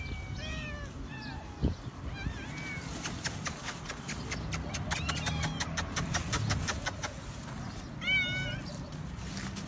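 Several cats meow repeatedly at close range while a woman scatters food among them on a rooftop, with a steady background hum and a short knock.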